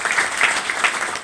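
A crowd at a business seminar breaks into brief applause, a short, busy patter of many hands clapping for just over a second.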